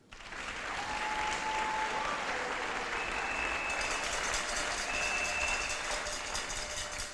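A church congregation applauds throughout a French-language sermon, a dense, loud, sustained wash of clapping that rises quickly and holds steady, with no speech over it.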